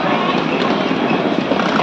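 A train pulls into Sealdah station in Kolkata with a continuous, loud rail rumble and clatter filling the whole stretch, thick station noise with no break.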